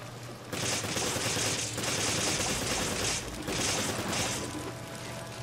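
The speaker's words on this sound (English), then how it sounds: "I guess because I just keep shooting everyone." Sustained gunfire in Resident Evil 5 plays as dense, continuous rapid shots in loud pulsing bursts lasting a second or two each, with brief dips between them.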